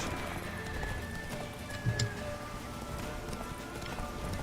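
A horse in the video game The Witcher 3: Wild Hunt gallops with a steady, rapid clip-clop of hooves and one brief, louder thump partway through.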